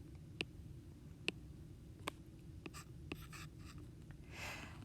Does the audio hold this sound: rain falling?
no